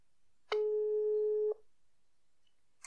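A telephone call tone sounds as a single steady electronic beep lasting about a second, loud and clean against near silence, with a faint click at the very end.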